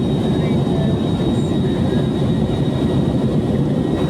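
A passenger airplane cabin during turbulence on a flight out of the Philippines toward India has a loud, constant engine and airflow drone with a deep rumble that never lets up.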